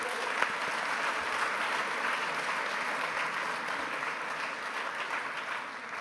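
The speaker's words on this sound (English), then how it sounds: "Let's give them a round of applause." A large audience at a scouting congress opening ceremony applauds steadily, a dense wash of clapping that holds for several seconds before easing slightly.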